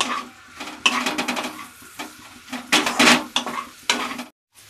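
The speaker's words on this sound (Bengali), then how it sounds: "এবার এটা দিয়ে একটু নেড়ে নেব" Chopped onions are stirred in a cooking pan for a Bengali-style chicken stew, with repeated clanking scrapes of a spatula against metal over a light sizzle, close and irregular, pausing briefly before silence at the end.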